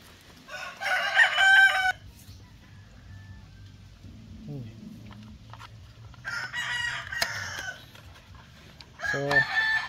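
Roosters crowing in loud bursts near a baby goat, with softer chicken clucking and quiet ambient noise between the calls.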